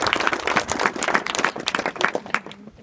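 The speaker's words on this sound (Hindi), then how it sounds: "Very good. ताली बजाओ।" A group of students at an inter college claps together in a room, a brisk burst of many hands with an uneven rhythm that tapers off toward the end, no talking over it.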